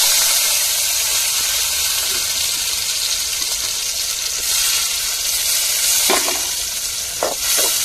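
Fenugreek seeds sizzle loudly in hot oil for a fish curry, a dense, constant hiss close by, with a few sharper spoon scrapes near the end.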